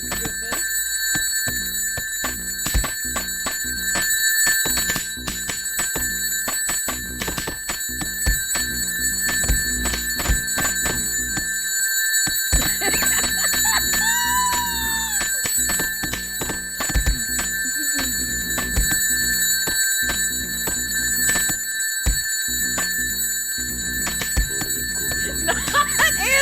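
A phone rings in Yakuza 0, its repeated bell-like trill running through a dense stretch of game music and sound effects, steady and fairly loud throughout.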